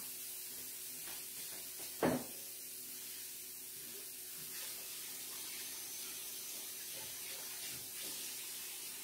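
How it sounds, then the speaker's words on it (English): Water runs steadily from a kitchen tap while hands are washed, a continuous close hiss with a brief louder splash early on and faint handling sounds, no talk. "we'll just quickly wash our hands."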